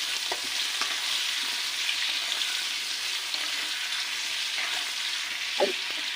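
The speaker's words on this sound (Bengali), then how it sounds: "এই তেলের মধ্যেই আমি কেটে রাখা মিঠা আলু এবং নর্মাল যে আলু সেই আলুটা ঢেলে দিলাম এগুলোকে একটু ভেজে নেব" Cut sweet potatoes and ordinary potatoes frying in hot oil: a loud, continuous sizzle close by, broken by occasional scrapes and knocks from stirring.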